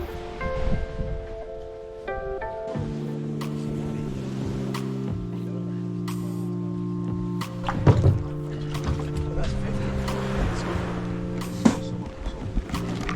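A boat runs far offshore toward open-water banks off Madagascar on a spearfishing trip, its engine giving a steady droning hum that shifts in pitch now and then, with splashes and rushing water over the top.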